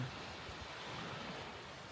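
Wind at Lac du Salagou in the Hérault, a steady broadband rush that buffets the microphone, with no voices.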